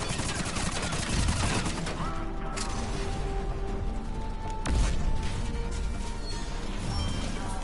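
Sustained gunfire fills a Mass Effect 3 Legendary Edition battle on Insanity difficulty, with rapid bursts and heavy impacts crashing throughout at steady loudness and a sharper blast near the five-second mark, no voices standing out.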